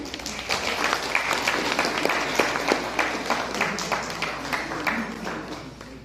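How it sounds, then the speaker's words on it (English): Outdoor crowd clapping at a kayaking challenge prize ceremony, a sustained even patter of many hands at moderate distance, steady for several seconds before tapering slightly. "A round of applause, please."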